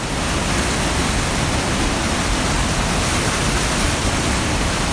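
The Feather River rushes past near the Thermalito Bridge, a loud, dense, unbroken roar of powerful moving water that fills the whole span with no voices.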